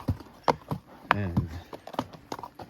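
A shod horse's hooves clip-clop over rocks on a Colorado mountain trail ride, giving close, steady, uneven hoof strikes, with a rider speaking over them.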